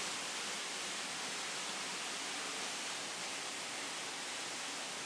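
Steady broadband rush of a stream flowing where the Fuyuno River meets the Asuka River in Asuka village, Nara, heard close and constant with no voices.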